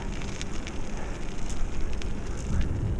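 Steady broadband hum of tyres rolling over a path on a riverside loop, continuous and close, with faint wind and distant traffic noise beneath it.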